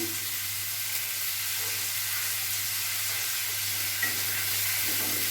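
Beans with a pinch of salt fry in a pan for Hakka noodles, giving a steady, close sizzling hiss throughout with a faint utensil knock near the end.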